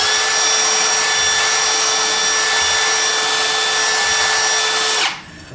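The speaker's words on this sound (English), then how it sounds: "We'll run the hone through it and start over." A drill spins a hone inside a brake cylinder from a 1964 C2 Corvette with a loud, steady high-pitched whine, running unbroken for about five seconds before cutting off and winding down.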